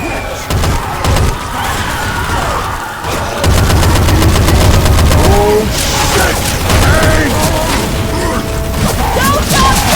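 Loud gunfire rattles through a fight against a tank, with bursts and rapid shots over heavy rumbling and booms, while voices shout amid the battle.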